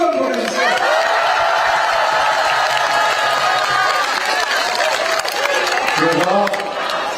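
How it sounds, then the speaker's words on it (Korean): A crowd at a Korean election rally in Bucheon gives sustained loud applause and cheers, continuous for several seconds, while a voice speaks over the noise. "박수 크게 한번 보내주세요."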